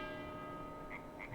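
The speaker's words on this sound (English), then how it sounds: "Oh, there's the bells." Church bells ring in Farming Simulator 22, a steady tonal ringing with sustained humming overtones that hang through the whole stretch, moderately quiet with no talk over it.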